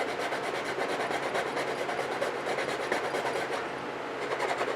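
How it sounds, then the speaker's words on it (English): Continuous back-and-forth rasping of a metal file shaping a small plastic saucer model part, close and steady throughout without speech. "all I got to do now is just take my file and chisel away at it"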